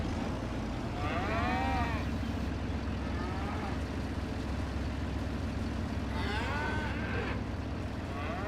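Cows mooing on a farm in Farming Simulator 25: two long, drawn-out moos, one early and one near the end, plus a fainter low call between them, over a steady engine-like rumble.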